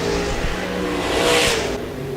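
Stock cars and RaceSaver sprint cars roar around Park Jefferson Speedway, a loud engine howl rising and sweeping past in a quick pass, with a bright swell midway and a steady rumble underneath.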